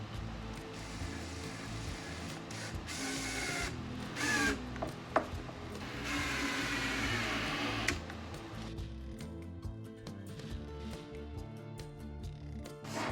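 A power screwdriver drives a small Spax screw, a sustained whirring buzz for several seconds with brief pauses and ticks as the bit bites, close up with no talk.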